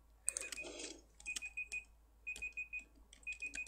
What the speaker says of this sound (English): And as the timer goes off, you have won.